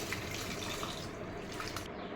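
Water poured into a pot while cooking a homemade sambar, a quiet, steady pouring trickle heard alone at low volume.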